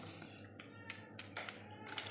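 Crispy homemade fried chicken crunching in a few sharp, close bites spread through a short quiet stretch, each a brief dry crackle.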